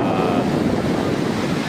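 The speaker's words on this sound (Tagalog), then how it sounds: "So ngayon, high tide ang ating karagatan." Ocean waves at high tide on a Boracay beach, a steady broadband wash of surf with gusty wind noise on the microphone, continuous and fairly loud with no break.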